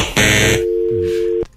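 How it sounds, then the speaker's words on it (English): A loud, steady telephone dial tone sounds for over a second after a click, then cuts off abruptly. "The dial tone at the end kind of says it all"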